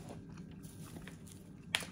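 Chewing a gummy candy close to the mic, soft wet mastication with faint squishy rhythmic bites and a brief sharper click near the end, no talking.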